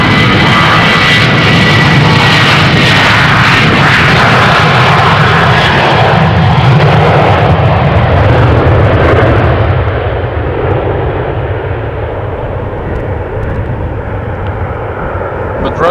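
A fixed-wing airliner takes off from runway 36L at Amsterdam Schiphol, its engines roaring loud and steady, then gradually easing as it climbs away into the distance.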